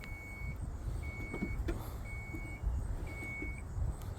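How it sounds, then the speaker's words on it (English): Power rear liftgate of a 2014 Chrysler Town & Country van opening, signalled by four evenly spaced warning beeps over a low, faint background hum. "Trunk open."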